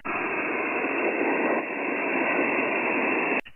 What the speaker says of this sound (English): Got a lot of noise on the good old 20 meters tonight.